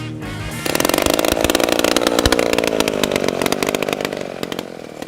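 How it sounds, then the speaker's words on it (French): A chainsaw cross-cuts a log into lengths at a sawmill, the loud steady buzz of the cutting running continuously after a brief lower idle at the start. "le bruit des machines et des scies"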